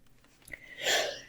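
A single soft, muffled sneeze comes after a brief intake of breath, faint and fairly close in an otherwise quiet room.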